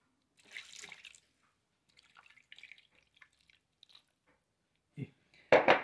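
Water is poured into a baking pan holding marinated pork shoulder; faint scattered drips and taps are followed by a brief louder splash near the end.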